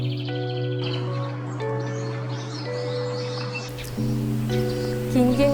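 Birds sing in the morning in rural Goesan, Korea, with repeated bright chirps and tweets over a steady background tone and faint leaf rustle, growing a little busier toward the end.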